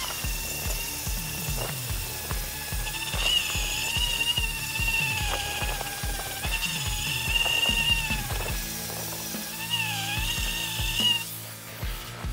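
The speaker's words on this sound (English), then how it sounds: "Now I'm going to switch over to the grinder and start smoothing it out." Grinder smoothing the ridges of a carved wooden American flag, a steady high whine with rhythmic grinding pulses and scraping throughout, fairly close and alone.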